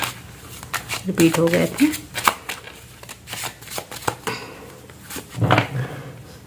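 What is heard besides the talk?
shuffling tarot cards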